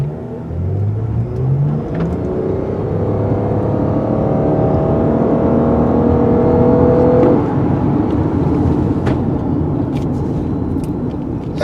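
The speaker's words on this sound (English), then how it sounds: "This battery power assists the engine when you're accelerating from a stoplight" A 2016 Lexus RX 450h hybrid SUV, its engine assisted by battery power, accelerates from a stop with a loud, steady engine drone whose pitch climbs and then levels off, with no voices.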